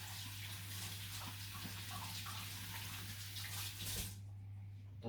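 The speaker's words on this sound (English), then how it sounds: "I'm just going to wash my hands properly" Tap water running steadily into a sink while hands are washed, a close continuous splashing rush under a low steady hum that cuts off abruptly near the end.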